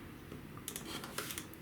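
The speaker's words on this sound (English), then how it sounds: "let's cut off these" Scissors snipping small fabric nubs off a pieced quilt block: a few faint, quick snips at close range in a quiet room.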